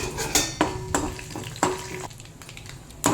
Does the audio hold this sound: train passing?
no